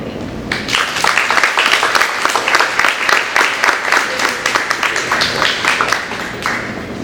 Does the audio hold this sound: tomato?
no